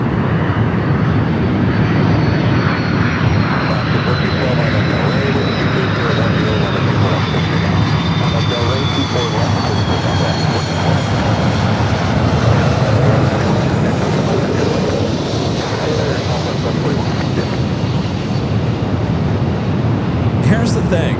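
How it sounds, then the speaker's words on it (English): A Delta Airbus A330-300 arriving at Los Angeles International Airport from JFK gives off a loud, continuous jet roar that holds steady throughout, with talking mixed in underneath. "We're at the Delta A330 300 coming in from JFK up next."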